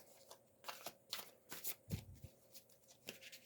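A deck of tarot cards is shuffled close by in short, soft riffles and rustles with small pauses between bursts, quiet and unhurried.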